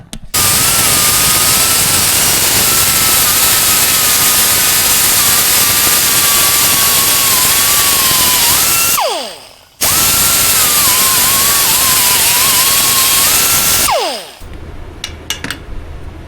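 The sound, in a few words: grinding down metal on a Kubota mini excavator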